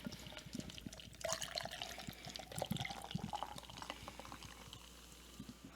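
Beer poured into a glass, a bubbling, gurgling liquid rush building and then fizzing away over a few seconds, close and moderate in level, no speech.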